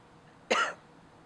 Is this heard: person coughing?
yes